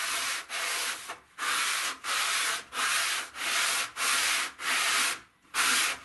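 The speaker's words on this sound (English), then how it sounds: "Good old hillbilly belt sander." Homemade belt sander grinding a spring steel cutlass blade in repeated passes, each a steady rasping burst of about half a second to a second, separated by short gaps as the blade is lifted, loud and close with no talking.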